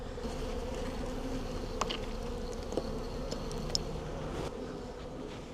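A steady, dense buzzing of many honey bees in a hive fills the air, a continuous drone with a few faint clicks and bumps now and then.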